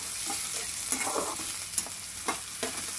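Onion and okra fry in oil for an Andhra-style tempering, a soft steady sizzle punctuated by several scraping stirs of a spatula in the pan, close up with no speech.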